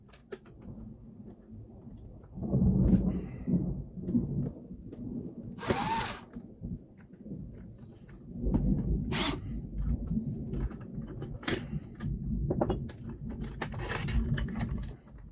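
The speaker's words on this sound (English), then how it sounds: "We're just going to take 1 screw out at a time." Screws being taken out of a Mercury binnacle remote control, a boat throttle control from a Boston Whaler Montauk, with close metallic clicks, small ratcheting turns and light tool rattles coming in irregular bursts, and no talking.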